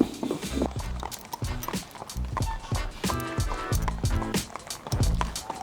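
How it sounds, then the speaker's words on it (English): Hooves of a big racehorse clip-clopping at a walk on a track, a steady uneven rhythm of close, moderately loud hoof strikes. "it's a big horse."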